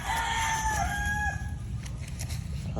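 A derby-winning gamecock crows once nearby, a clear drawn-out cock-a-doodle-doo over low farmyard rumble, with faint background noise after the call fades.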